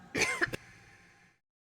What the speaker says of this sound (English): I could tell I had to cough.